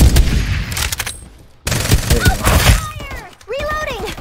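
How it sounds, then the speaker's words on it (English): The rapid-firing White Dwarf gun in Farlight 84 lets off fast bursts of shots with sharp impacts, loud and close, with a short pause between bursts, mixed with game effects and voices talking. "Gun's pretty insane, white dwarf. I've never used it before, it's actually really rapid."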